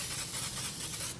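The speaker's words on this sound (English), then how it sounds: "spray the pan with canola oil" Canola oil cooking spray hisses onto a pan in one steady, close burst of about a second before cutting off.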